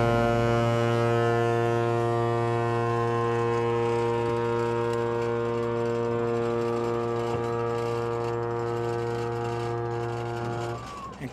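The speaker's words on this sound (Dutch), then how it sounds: "En dan is het wachtje op de toeter." A long, loud, steady ship's horn blast sounds as the start signal of a skûtsje sailing race at Earnewâld, holding one unbroken harmonic drone for about eleven seconds before cutting off.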